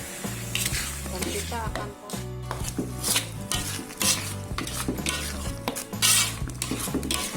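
Ground boiled chili being stirred into beef rendang in a pan, with steady scraping and sizzling close by, repeated stirring strokes over a continuous low rumble and music-like tonal background, brief speech at the start.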